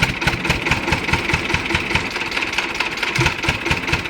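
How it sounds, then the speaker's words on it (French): An old vintage engine at an agricultural and automobile museum in Salviac runs loud and close, with a steady rapid chugging pulse and no voices. "50 ans, 80 ans après, on a des moteurs qui démarrent au quart de tour"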